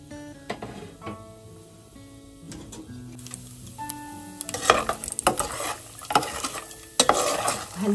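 Cashew nuts fry in hot oil with cardamom, cinnamon and cloves, a soft sizzle under clinking, scraping stirring strokes that grow busier and louder in the second half.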